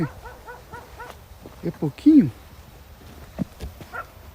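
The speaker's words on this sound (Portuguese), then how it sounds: "Por que tem cachorro aqui?" Short dog barks and yelps sound nearby in a sugarcane field, mixed with a person speaking briefly over a low background rumble.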